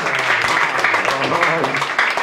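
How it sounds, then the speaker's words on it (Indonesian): A church congregation cheers and claps together in a dense, continuous burst of applause and shouting, loud and close, with voices mixed into the clapping. "Berikan sorak-sorai."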